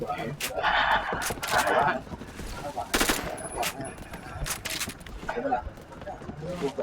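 Rapid bursts of gunfire from the online shooter game Phantom Forces, crackling in short volleys amid busy game noise, with people talking over much of it.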